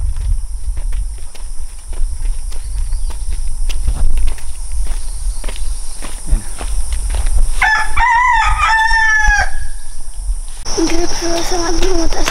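Roosters crow and chickens cluck in a Nepali village, with a loud burst of crowing in the middle and more clucking near the end over a steady background of outdoor noise.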